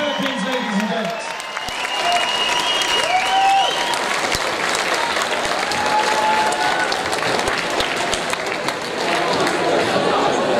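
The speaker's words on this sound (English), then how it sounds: "Let's have a massive round of applause one more time for Thom Gregory and for Jen Perkins, ladies and gents" A crowd applauds after a combat bout at a charity fighting event, loud and continuous for the whole stretch with cheering, whistles and chatter mixed in.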